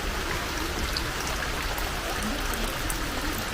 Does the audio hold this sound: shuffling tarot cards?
no